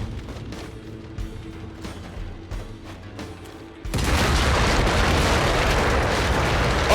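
A loud, sustained explosion rumbles out halfway through a level of the shooter Project Warlock II, following a quieter stretch of game ambience and music, then holding as a dense, roaring blast to the end.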